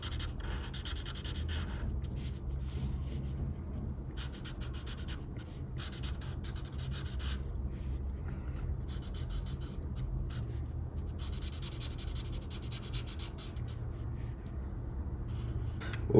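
Marker strokes rub steadily across paper while grey 3 fills in the legs of a Zamazenta drawing, a close, continuous scratchy texture with brief pauses between passes.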